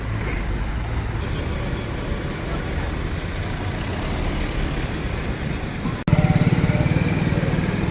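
A lorry on the A9 road carries away a crashed vehicle, its engine droning as a steady, fairly close rumble that grows louder and rougher near the end.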